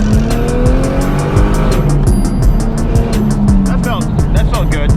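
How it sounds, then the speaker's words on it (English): A boosted Lexus IS300 accelerates hard while its tires spin and squeal, the engine loud and close as it climbs through rising revs, with talk under it. "It should be pretty willing to just blow off the tires."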